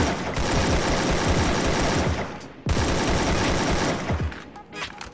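Rapid automatic gunfire in the Free Fire battle royale game rattles loudly in sustained bursts, broken by a brief pause before another long stream of shots.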